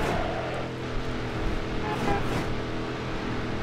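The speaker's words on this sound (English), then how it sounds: "it's the fake V8 noises" A car in Midnight Club 3 plays its fake V8 engine noise, a loud steady drone with a slight rise in pitch midway.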